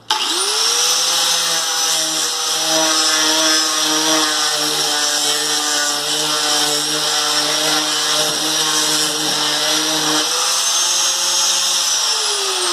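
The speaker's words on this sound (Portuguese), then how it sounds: "Então eu vou lixar, ó, você pode usar a lixa de madeira, também" A power tool fitted with a flap disc sands wooden pallets to build a pallet counter, running as a loud continuous high whine for about ten seconds, then winding down with a falling pitch, with no talk over it.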